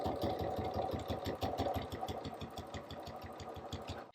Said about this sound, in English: take it over to the sewing machine and sew it down all the way across